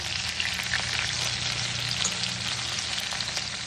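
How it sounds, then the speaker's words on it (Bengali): A dry red chilli and five-spice seeds frying in hot oil: a constant close crackling sizzle with fine popping, steady and loud for a few seconds, with a faint low hum beneath and no talking. "এবার ওই তেলে দিয়ে দেওয়া হচ্ছে একটা শুকনো লঙ্কা আর 5 ফোড়ন"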